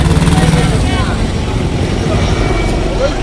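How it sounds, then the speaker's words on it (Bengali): A helicopter flies over the Puri railway station forecourt, its steady rotor drone loud and continuous for the whole stretch. "পুরী স্টেশন চত্বরটা জুড়ে 3-4টে হেলিকপ্টার কভার করছে"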